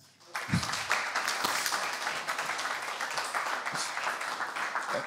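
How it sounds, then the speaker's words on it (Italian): Applause from a small group in an office meeting, a brief round of clapping that starts abruptly and continues fairly steadily at moderate volume. "Direi che questa email merita un applauso"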